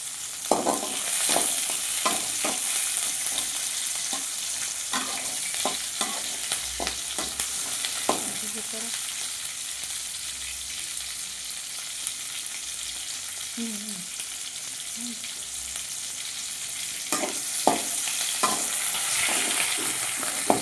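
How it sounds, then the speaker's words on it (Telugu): Onions and green chillies fry in a pan for tomato chutney, a continuous sizzle with repeated scraping stirs and clinks of the spatula, close and steady throughout. "ఉల్లిపాయలు, పచ్చిమిర్చి వేయించుకోవాలండి ఫస్ట్."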